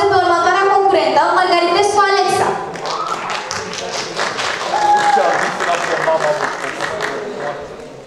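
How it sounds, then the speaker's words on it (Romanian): A voice speaks at a Romanian high school show's drawing section. Then a school audience breaks into steady applause for a contestant, a busy patter of claps that carries on to the end. "Să o primim cu aplauze pe următoarea concurentă, Margarita cu Alexa."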